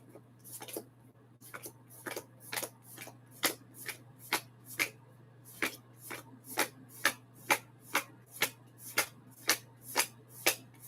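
Tarot cards being shuffled close by, a run of crisp riffling bursts that speed into a steady rhythm of about a dozen sharp flicks, with a faint low hum underneath and no talking.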